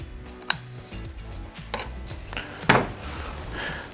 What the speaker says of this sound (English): basically what you're going to do now is start filing